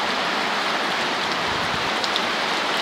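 Steady rain falls on a flooded street in Ehimiri, Umuahia, Abia State, making a dense, unbroken hiss of drops striking water. It stays even throughout and no one speaks.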